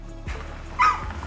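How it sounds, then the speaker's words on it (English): Dog barking in a garage while carbon fiber fender louvers go onto a Toyota Supra A90, two or three short sharp barks at moderate distance with faint background noise between them. "There's my dog."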